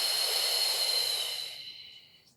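One long, breathy exhale during a beginner Pilates posture exercise, a close steady hiss that slowly fades out.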